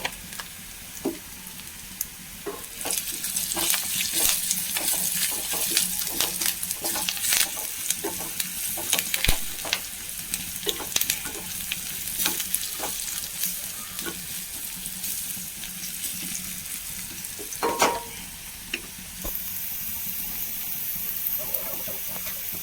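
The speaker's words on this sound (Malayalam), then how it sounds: "നമ്മുടെ ഉള്ളിയൊക്കെ ഏകദേശം ആയിട്ടുണ്ട് നമുക്ക് മുളക് ഇട്ട് കൊടുക്കാം" Onions and chili frying in a pan for a long bean stir-fry, with a steady sizzle under repeated scraping stirs throughout and a brief louder burst near the end; no talking.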